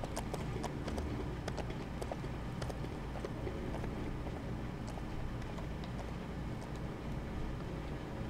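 Steady clip-clop of horse hooves trotting at an even pace, moderately close, over a faint windy background, from the video game Lego Lord of the Rings.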